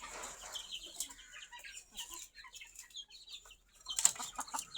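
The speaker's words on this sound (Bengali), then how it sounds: "আম্মু মুরগিদের আগে খাবার দিচ্ছিল" Several chickens cluck softly and irregularly nearby, scattered short calls with a brief flurry of louder clucks and rustling toward the end, otherwise quiet.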